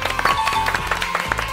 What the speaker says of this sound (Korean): 자 김석진 팀 박수.